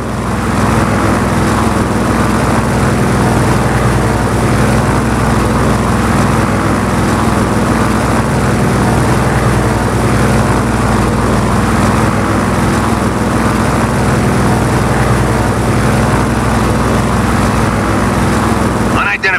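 Engine drone of a propeller aircraft flying in the video game Just Cause 4, a steady buzzing roar that holds at constant loudness, with voices talking over it.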